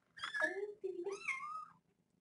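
Two drawn-out kitten meows follow one after another, close and clear, rising and falling in pitch against a quiet background.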